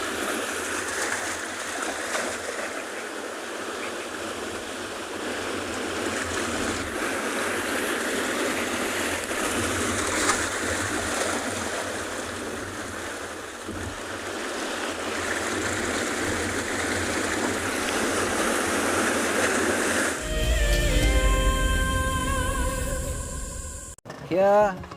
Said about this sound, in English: Just listen for a minute to the waves crashing here.